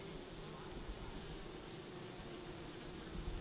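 Honey bees buzzing in a bee yard on a farm, a steady even drone from many insects with no other sounds over it.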